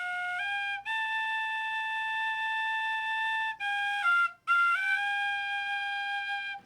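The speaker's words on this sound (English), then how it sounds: "So I bought a penny whistle and tried that for the first time" A bright, pure-toned penny whistle playing sustained notes with a few pitch steps, clear and alone, with short breaks between phrases.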